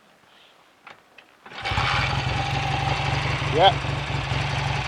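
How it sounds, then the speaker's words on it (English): BSA A65 Thunderbolt motorcycle engine firing up after quiet handling noises, then settling into a steady throbbing idle, close and loud, with a brief word spoken over it. "Let's see if we can do the restart trick without touching the throttle."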